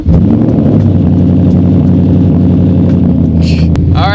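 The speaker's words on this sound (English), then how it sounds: "when you start the car, it's open header." A loud, rough Ford Mustang GT engine with open header exhaust burbles close by with an uneven, throaty pulsing, with a couple of short sharp noises near the end.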